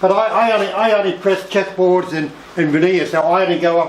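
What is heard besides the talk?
None of the usual background noises is heard.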